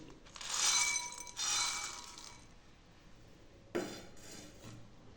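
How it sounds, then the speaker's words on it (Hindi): Salted boondi poured into a bowl gives two short crisp rattling rushes, then a sharper clink against the bowl, close and fairly quiet. "तो इसमें मैं डालूंगी ये नमकीन बूंदी"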